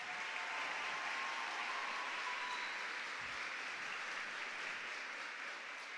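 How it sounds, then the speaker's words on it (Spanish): Audience at a regional oratory competition in Herrera province applauds the 12 finalists, a steady wash of clapping heard from a distance, fairly faint and even throughout with no talk. "Fuerte el aplauso para los 12 clasificados."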